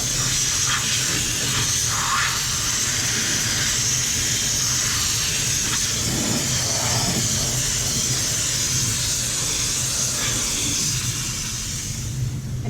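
A steam cleaner hisses loudly and continuously in the engine bay of a 2000 Camaro Z28, a steady close spray with faint shifting tones and no talk.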